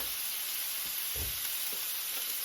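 A hamburger patty frying in a pan gives a steady, close sizzle with a few soft bumps and stirring sounds, and no one speaks over it.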